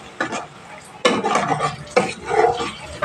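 Sour yogurt being stirred slowly into spiced rohu fish curry in a pot, giving three soft scraping bursts of spoon against metal, close and moderately loud.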